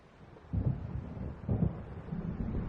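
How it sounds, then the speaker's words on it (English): Low, rumbling thunder rolls in from an approaching storm in Alan Wake Remastered, two heavy booming swells about a second apart over a steady windy background, distant and fairly faint. "It seems there's a storm coming."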